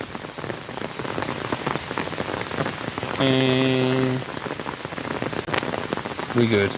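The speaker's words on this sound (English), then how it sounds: "pissing rain. Fun times. Enjoying the rain?" Steady heavy rain pours down, a dense hiss of drops drumming on a surface, with a brief tonal chime partway through.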